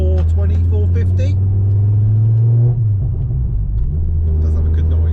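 Ford Focus RS Mk2 with its five-cylinder engine tuned to about 470 horsepower, warming up with a deep, loud, steady rumble close by. The idle wavers slightly partway through, and someone talks over it.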